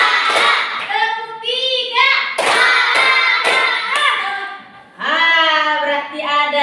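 Pupils in a classroom do a counted clapping icebreaker, chanting numbers aloud between sharp, separate bursts of hand claps, with voices prominent throughout.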